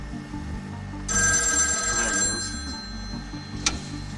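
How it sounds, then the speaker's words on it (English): A telephone rings in a phone booth in the Mojave Desert, a sustained bright electronic trill that starts abruptly and holds for about two seconds, close and loud, followed by a faint click. "When the phone rang, the sound hit hard."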